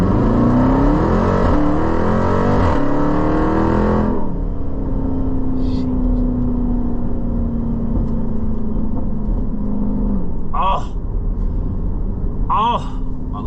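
A Dodge Durango SRT Trackhawk accelerates hard with a loud, rising engine roar that climbs through the gears for about four seconds. A steady cruising drone follows, and a voice speaks briefly near the end.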